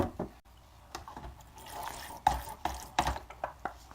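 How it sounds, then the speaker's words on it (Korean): Balsamic vinegar, honey and lemon juice are whisked into a dressing, making quick, close, wet stirring and light clinking strokes in an uneven rhythm, with no one talking. "이렇게 해서 드레싱을 잘 섞어줍니다"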